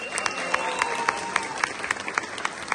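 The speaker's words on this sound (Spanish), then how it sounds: "el aplauso para la pareja número 1" Applause for the first couple at a 2023 parents' event: a steady wash of clapping from a crowd with sharp individual claps standing out, moderately loud and continuous throughout.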